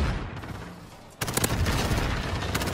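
MP7 submachine gun fire in Modern Warfare: a rapid, close burst of automatic shots breaks out after a brief lull and keeps rattling loudly, without speech.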